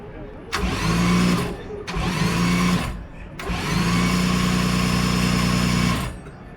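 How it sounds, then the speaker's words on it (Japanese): The starter motor cranks a Honda RA272 Formula One engine at a Tamiya Fair 2025 start-up demonstration: three loud, close whirring bursts with short gaps, the last one longest, without the engine firing. "スターターモーターを回してエンジンをクランキングと言いますけど回すことによって"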